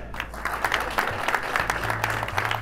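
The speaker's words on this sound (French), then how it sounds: "Un tonnerre d'applaudissements pour Madame Jessica Gradel." Dense applause from an audience greeting the winner of an award, a steady wash of many clapping hands over a low hum, with a few individual claps standing out near the front.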